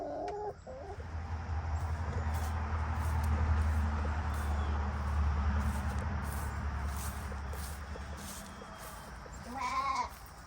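Six hens cluck and murmur steadily at close range over a low rumble, with a brief sharper squawk near the end.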